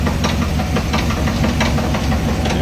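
A 2025 High Country's GM 6.2L V8 with a spun crank bearing at 16,000 miles, idling with a loud, rapid, metallic knocking that repeats in an even rhythm over a steady engine drone, close up with no talking.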